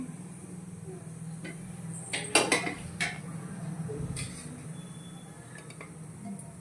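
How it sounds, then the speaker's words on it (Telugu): A metal cooking pot is set down on a lit stove for mutton fry, giving a cluster of sharp clanks and clinks midway over a low steady burner hum. "గిన్నె పెట్టేసుకుందాం మటన్ ఫ్రైకి."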